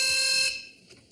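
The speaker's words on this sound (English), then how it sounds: "fingers on buzzers, please" A quiz show buzzer sounds on a British panel game, one bright electronic tone that rings for about half a second and then cuts off, leaving a quiet studio.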